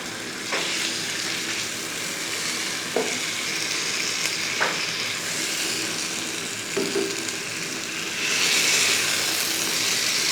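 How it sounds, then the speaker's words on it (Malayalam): Kerala-style fish fries in oil in a pan, a steady close sizzle running throughout, broken by a few stirring and turning clinks and a louder burst of spitting near the end. "അപ്പോൾ തിരിച്ച് മറിച്ചുമൊക്കെ ഇട്ട് നമ്മുടെ ആവശ്യത്തിന് പൊരിച്ചെടുക്കുക."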